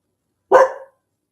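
A single sharp bark from a dog through an open window, one close, loud burst standing alone in silence.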